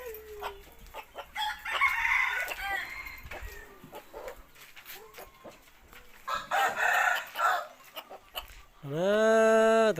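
Chickens clucking and calling through a farmyard, with a rooster crowing loud and close at the end; people talk faintly in between.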